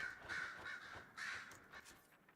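Crows caw in Dragon Age Inquisition, at Skyhold, with several harsh, fairly loud calls in quick succession and no other sound.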